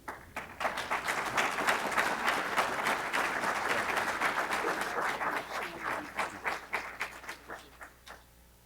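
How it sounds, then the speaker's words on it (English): Audience applause at a Founder's Day event: a crowd claps steadily for several seconds, then thins into scattered individual claps as it fades out. "y'all clapping like you're scared"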